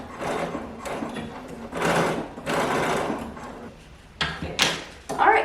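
A sewing machine stitches elastic together, running in several short bursts of busy mechanical whirring with brief pauses and clicks between them, close and fairly quiet.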